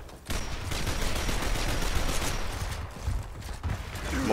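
Sustained rapid gunfire rattles through a Gears of War Ultimate Edition firefight, a dense, continuous burst of shots with mechanical clatter running nearly unbroken for several seconds, loud and close with no talking.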